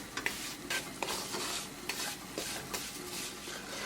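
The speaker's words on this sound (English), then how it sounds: "So keep it moving and keep cooking." Semolina halwa frying in desi ghee in a pan, stirred continuously with a steady soft sizzle and repeated scraping strokes, close and clear with no talk.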